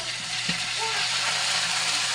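Garlic sautéing in a pan for pancit, a steady, soft sizzle and crackle with a faint clink near the start.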